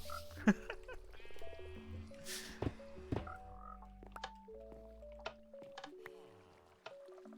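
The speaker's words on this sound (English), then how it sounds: "It's the invasion of the frogs." Frogs in Minecraft croak repeatedly in close, distinct bursts, mixed with sharp clicks and a few other animal calls against soft tonal game music.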